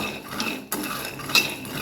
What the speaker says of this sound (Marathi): अशा प्रकारे आपल्याला हलवून चारी बाजूने मस्त असं लालसर खरपूस भाजून शेंगदाणे घ्यायचं आहे